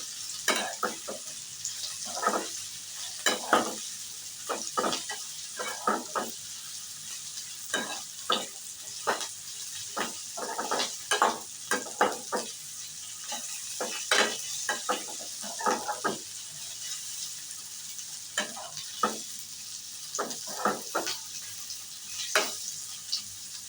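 Cauliflower for gobi chilli stir-frying in a pan, a continuous close sizzle broken by repeated scraping stirs in an uneven rhythm, with no talk over it.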